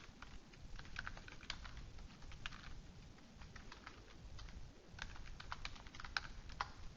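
Steady keyboard typing into a spreadsheet cell: a continuous run of soft, quick key clicks with uneven rhythm and occasional sharper taps, close and fairly quiet, no voices.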